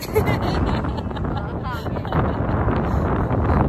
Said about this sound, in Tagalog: Hangin naman pala dito.